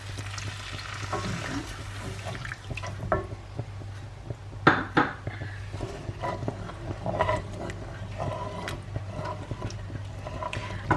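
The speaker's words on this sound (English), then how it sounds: "I'm just going to cook the garlic for a second" Garlic fries in a pan with a soft continuous sizzle, close by, with occasional clinks and scrapes of a utensil against the pan.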